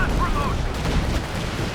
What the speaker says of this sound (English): the sound of the land mattress